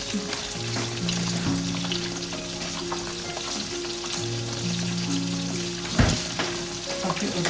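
A piece of butter sizzling and frying in a pan, a steady crackle with occasional stirring clatter and a sharp knock near the end.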